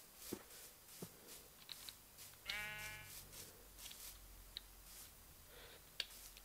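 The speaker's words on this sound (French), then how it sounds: "Là-bas, il y a des moutons." A single quavering sheep bleat in a survival video game, faint and slightly distant, amid soft clicks and low background noise.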